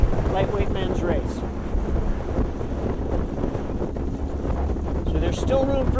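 Gusty wind blows across open water during a lightweight men's rowing race and buffets the microphone with a constant rough roar. Faint water and boat sounds lie beneath it for the whole stretch.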